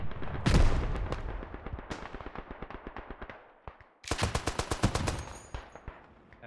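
Gunfire in the World War I shooter Beyond the Wire, with a heavy machine gun on the German Empire side: a loud close burst, scattered shots, then a rapid rattling volley of many rounds.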